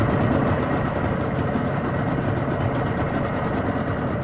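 A small fishing boat's outboard motor running at speed on a river, a steady loud drone with constant rumble and hiss throughout, no talking.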